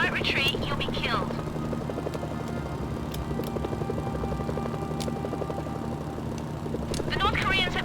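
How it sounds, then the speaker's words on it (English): Attack helicopters approach in Mercenaries: Playground of Destruction, a loud continuous rotor thump with a rhythmic chopping pulse throughout, punctuated by brief whooshes and clanks, with voices talking over it. "Incoming helicopters."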